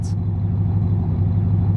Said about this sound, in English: as the car was moving past the camera.